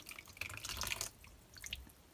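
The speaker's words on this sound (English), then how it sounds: "We need to add more water to this." Cold tap water dripping and splashing into a thick paper pulp mixture in a container, a soft wet trickle of drops that swells in the middle and eases off near the end.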